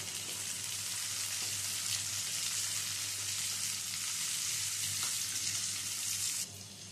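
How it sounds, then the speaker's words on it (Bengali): Chopped tomato frying in a pan for a Pahadi dal, a steady close sizzle running throughout with no talk, dropping slightly in level near the end. "এবারে দিয়ে দিচ্ছি একটা টমেটো, ছোট ছোট করে টুকরো করে কুচিয়ে নিয়েছি। টমেটো কুচিটাও দিয়ে দিলাম।"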